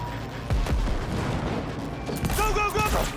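A grenade goes off in a Cyberpunk 2077 firefight: a loud, close boom with a second burst, then a shouted voice and continuing combat noise.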